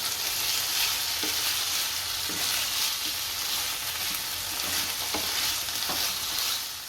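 Spatula stirring tomato sauce and soy sauce through pan-fried pieces of leftover roti in a hot pan, a steady broad sizzle with soft scraping strokes recurring every second or so, close and continuous with no talk.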